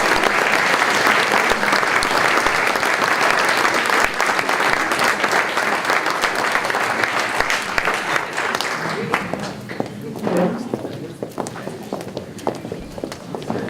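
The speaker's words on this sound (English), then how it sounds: "You deserve a big round of applause for all of your achievement" Sustained audience applause fills a hall of fame induction ceremony, dense clapping from a large crowd that stays loud for most of the stretch before thinning into scattered claps near the end.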